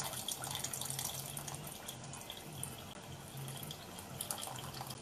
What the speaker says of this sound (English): Strain all that oil and liquid right into that dish.